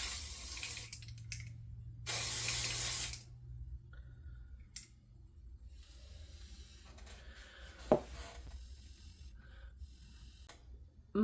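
Aerosol glitter spray hisses in two bursts, one brief and one longer and louder, aimed at handmade faery ears, followed by quieter handling noises and a small knock near the end.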